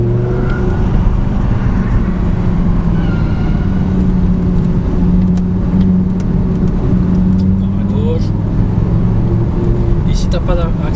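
An Audi R8 V10 sports car drives on the Folembray race circuit, its engine a loud, steady droning roar with slight rises in pitch heard from inside the cabin, while an instructor talks over it.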